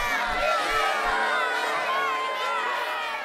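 A cartoon crowd of children's voices shouts and cheers together to elect Miss Picraisin, a loud, sustained mass of overlapping cries with a few low thumps at the start.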